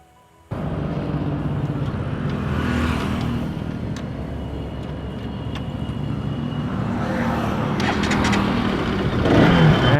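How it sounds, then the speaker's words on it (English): A Bajaj RS200 motorcycle engine catches abruptly and settles into a steady running idle beside a highway, close and continuous, with slight revving toward the end. "And finally the bike started."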